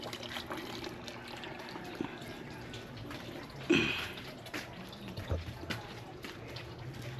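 Thin stream of running water trickling into a backyard pool, a soft steady flow with faint drips and a brief louder splash midway.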